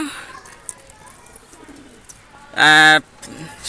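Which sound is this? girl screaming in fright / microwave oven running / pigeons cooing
pigeons cooing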